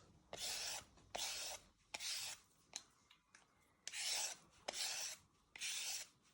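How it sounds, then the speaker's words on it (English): Repeated rasping scrapes of a peeler on a carrot, about seven strokes in a steady rhythm, close and fairly loud with brief pauses between. "So once you have peeled your carrots"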